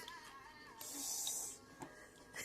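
A toddler imitates a snake with a soft, breathy hiss lasting about half a second, quiet and close, amid faint room noise.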